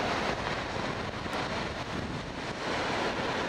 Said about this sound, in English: Wind's coming slightly from the east.